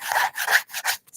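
A quality deck of playing cards is shuffled in several quick, crisp riffling bursts separated by short pauses, close and fairly loud.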